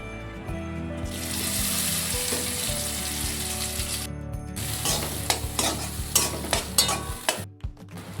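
Mashed boiled chana dal frying in a kadai, with a steady sizzle and repeated scraping, clattering stirs that get sharper and more irregular toward the end, close and fairly loud with no talking.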